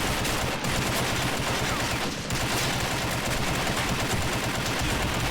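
Sustained gunfire crackles through an army men battle video game, dense rapid shooting layered over continuous loud rain, with a few brief dips.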